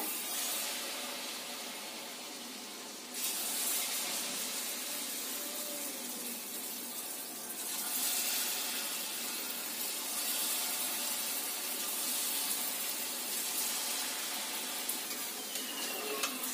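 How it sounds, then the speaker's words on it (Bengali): Ripe mango fritter batter dropped by small spoonfuls into hot oil, giving a steady, loud, broadband sizzle and bubbling that keeps going throughout and rises briefly after a few seconds, with no talking. "এইবার এই মাখা থেকে নিয়ে অল্প অল্প করে নিয়ে ফুলির আকারে তেলে ছেড়ে দিতে হবে"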